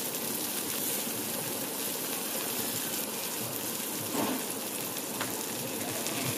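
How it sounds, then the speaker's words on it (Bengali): Dry chili, bay leaf, cumin, chopped onion and garlic frying in hot oil for a tilapia fish curry, a steady, close, even sizzle and crackle with no talk. "এবার ওই তেলের মধ্যেই দিয়ে দেব শুকনো মরিচ, তেজপাতা, জিরা, পেঁয়াজ কুচি, রসুন কুচি দিয়ে এবার ভেজে নেব।"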